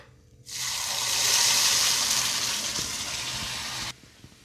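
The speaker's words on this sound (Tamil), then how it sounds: "தண்ணி ஆட் பண்ணிக்கலாம்" Water poured into a kadai of cooking ground paste, a sudden loud gushing pour that runs steadily for about three and a half seconds and then stops abruptly, close by and alone.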